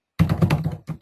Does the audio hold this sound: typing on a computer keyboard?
yes